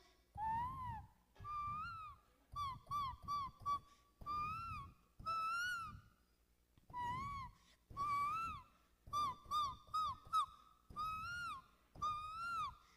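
A voice imitates cuckoo calls, a series of rising whistled hoots in short bursts and repeated phrases, fairly close and clear.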